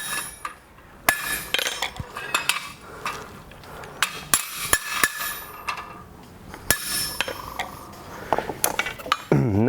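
Hammer blows on a chisel splitting hot flat stock at a blacksmith's anvil, a series of sharp metallic strikes at irregular intervals, some ringing, close and fairly loud.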